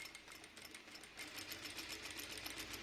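A sewing machine stitches fabric close by in a fast, steady mechanical whir with rapid regular needle clicks, running alone without talk.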